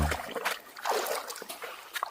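Water trickling slowly inside a box holding freshly caught crabs and fish, a close, steady dribble with small splashes and sloshes throughout.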